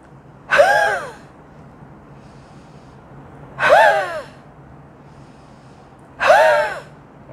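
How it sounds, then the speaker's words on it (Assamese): Three forceful huffing exhalations through an open mouth, the half-breath huff cough technique for clearing phlegm, evenly spaced about three seconds apart, close and breathy with quiet pauses between. "আধালৈকে লৈ আমি ফৰ্চফুলি উশাহটো মুখেদি এটা শব্দ উলিয়াই পেলাই এৰি দিম"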